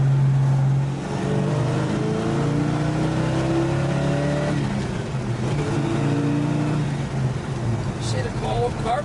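A 1966 Plymouth Barracuda with a 360 engine accelerating from inside the car, the engine note rising steadily through the gears as a loud, droning rumble with a brief shift partway, someone talking over it.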